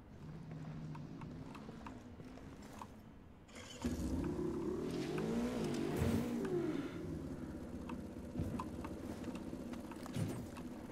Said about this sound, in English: You're hearing engine noise.